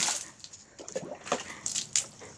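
Water splashes in short, irregular bursts during New Year water play at home, with soft wet slaps and drips close by.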